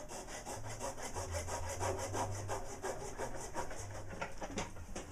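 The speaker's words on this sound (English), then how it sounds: "Alright, now I'm cutting these little tubes to length. I'm just using a coping saw." A coping saw cuts small metal tubes to length in steady, rapid back-and-forth strokes, a continuous rasping buzz with an even rhythm, close and moderately loud, with no talking.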